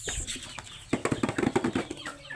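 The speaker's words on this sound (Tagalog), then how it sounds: "tara pa magpakain ng manok" Chickens clucking close by at feeding time, a quick burst of short, rhythmic clucks and squawks over a second or so amid light rustling.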